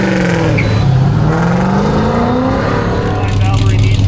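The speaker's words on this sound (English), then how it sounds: "Valerie Bichette on the line, our reigning back-to-back sports car champion and driving one bad GTA" A GTA sports car drives a Goodguys autocross course in Colorado, its engine droning and rising in pitch continuously and loudly throughout, under a commentator's voice.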